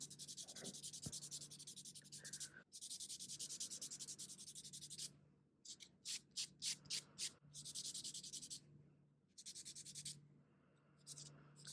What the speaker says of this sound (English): So I'm just filing the side, the free edge.